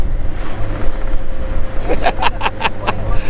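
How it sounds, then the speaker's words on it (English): Wind buffets the microphone with a steady low rumble throughout on Spinalonga island, Crete, with some brief tonal bursts toward the end. "it is a bit windy, as you can tell by Bexy's hair."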